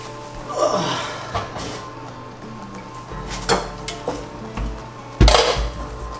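A metal pot clanks and scrapes on a stovetop while venison stew cooks, with a few separate knocks and a louder clatter near the end over steady kitchen background noise.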